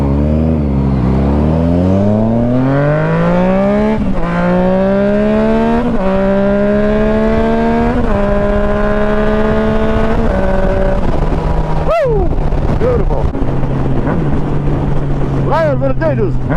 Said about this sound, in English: this bike just sings to me now